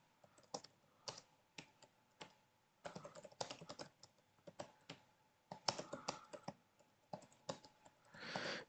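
Typing on a computer keyboard in quick bursts of close, crisp key clicks with short pauses between them, ending in a denser flurry, with no voice over it.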